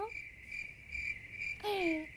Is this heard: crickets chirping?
yes